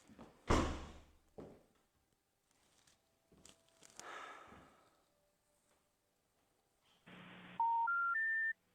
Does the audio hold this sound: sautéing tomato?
no